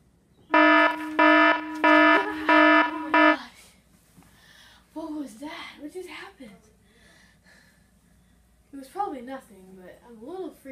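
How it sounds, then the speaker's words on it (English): A loud electronic alarm, like a fire alarm, blares in a series of rapid pulsing beeps for about three seconds, then cuts off, followed by people talking. "I'm a little freaked out by that alarm or whatever it was."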